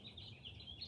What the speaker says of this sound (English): Listen to them birdies chirp.